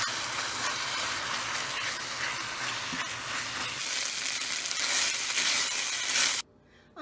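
Sliced beef for fajitas sizzles in a hot pan with a steady, bright, hissing crackle that holds for several seconds and then cuts off abruptly near the end.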